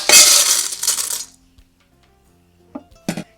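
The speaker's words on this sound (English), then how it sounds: "Next I'm going to go ahead and dump them in the pan." Dry red beans tipped into a pan give a loud, close rattling burst of hard little clinks for about a second, followed by a few scattered ticks and small clatters as stragglers drop in.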